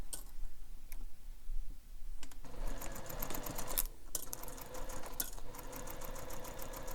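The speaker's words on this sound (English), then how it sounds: "we're going to sew this edge here, this top curved edge, with the seam allowance given in the pattern" A sewing machine stitches the top curved edge of a bag, with short starts and stops in the first seconds and then a steady, close run of rapid ticking stitches.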